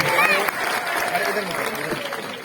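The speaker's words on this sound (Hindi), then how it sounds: "स्वागत कीजिए तालियों से" A crowd applauds to welcome the Chief Minister arriving at an evening event held on the eve of Atal Bihari Vajpayee's birth anniversary. The clapping is steady and dense and is mixed with a loudspeaker voice and general crowd noise.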